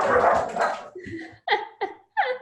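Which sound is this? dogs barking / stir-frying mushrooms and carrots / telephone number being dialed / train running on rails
dogs barking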